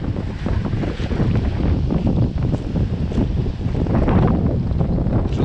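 Sea surf and gusting wind on a beach in Sochi make a continuous rough roar. Heavy wind buffets the microphone close up, and no one speaks.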